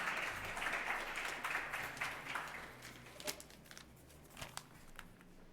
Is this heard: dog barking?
no